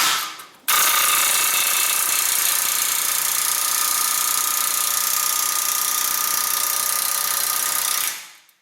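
An air hammer rattles hard against a Subaru ball joint, a loud, continuous rapid chatter starting abruptly and running for several seconds before cutting off, close up with no talk.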